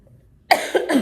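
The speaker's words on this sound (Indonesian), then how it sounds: "Mohon maaf, aku ada batuk ya" After a moment of near silence, a person coughs close to the microphone, a couple of harsh, throaty bursts in quick succession.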